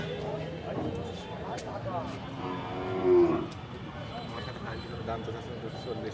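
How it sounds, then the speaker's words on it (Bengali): A cow lowing with a short, drawn-out moo at a busy cattle market selling bulls, heard once near the middle over steady crowd chatter and people talking close by. "আলমগীর ভাই এই গরুটা নিয়ে দাম বলছে।"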